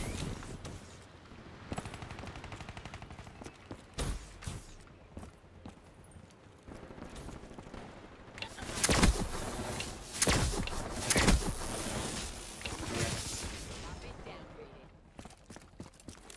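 A Tempest sniper rifle fires in a video game as sharp, loud single shots spaced a few seconds apart, with a denser burst of reports in the middle, over game sounds while a player talks.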